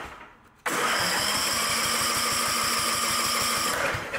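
A poor-condition lawn mower engine cranks and sputters without catching, a loud rapid chugging rhythm lasting several seconds after a brief quiet start.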